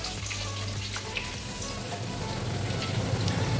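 Onions, tomatoes and masala fry in a pan while being stirred, a dense close sizzle with crackling spatters and a low hum underneath that grows slightly louder toward the end.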